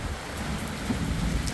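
A thunderstorm in Utah pours heavy rain in a steady, dense hiss, with a low rumble of thunder underneath throughout.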